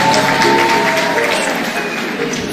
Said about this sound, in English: Kindly clap for them.